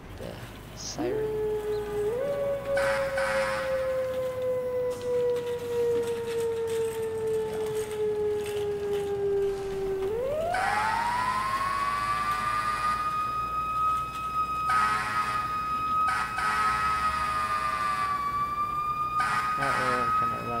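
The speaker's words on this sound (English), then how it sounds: "Just go ahead and hit the siren" A fire engine siren in the video game EmergeNYC, a Brooklyn engine responding to a fire, wails loud and steady with a rising and falling tone, then a sharp sweep up into a higher sustained pitch, with no talk over it.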